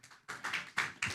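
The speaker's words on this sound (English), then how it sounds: "Please give a round of applause to Sebastian, the Towering Inferno Fundora." A few sharp, separate claps ring out at a boxing press event for Sebastian Fundora, about four quick hand claps spaced across a second.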